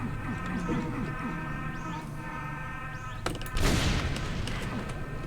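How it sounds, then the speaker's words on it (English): A rocket-jump explosion in Brutal Doom 64 bursts out near the end as one loud, close blast with a short rumbling tail, following steady game noise and faint mechanical hum. "I rocket jumped out of the pit"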